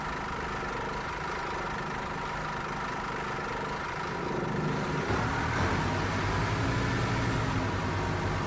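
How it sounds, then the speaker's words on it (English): A bus engine in a bus driving simulator game idles with a steady, loud rumble and vibration, and it grows heavier and deeper about halfway through as if revving. No talking is heard. "That engine, holy cow, is that loud."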